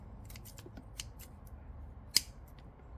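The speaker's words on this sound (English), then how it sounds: "I might clean that up a bit with the scissors" Scissors snip roots off dug-up dahlia tubers, giving faint, scattered clicks and one sharper cut in a quiet setting.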